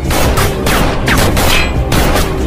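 Gunfire in a tense shootout from the film Blur: loud, dense bursts of shots and booms crowd together with no pause, heavily mixed with action score.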